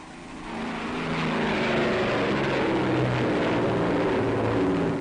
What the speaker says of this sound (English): 29 Lancasters race along the runway.